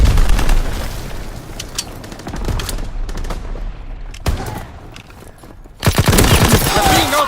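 Dense automatic gunfire and booming explosions from Call of Duty on PS4 Pro roar almost continuously, fading briefly mid-way before another loud burst, with shouted voices mixed in.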